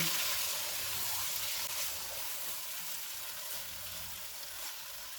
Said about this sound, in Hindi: चूल्हे को मीडियम लो कर देते हैं और इनको 2 से 3 मिनट तक भूनेंगे